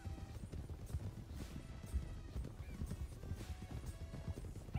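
A horse's hooves clip-clop in a steady walking rhythm across the RedM video game's ground, each step close and distinct, with a brief neigh-like sound mixed in among the footfalls.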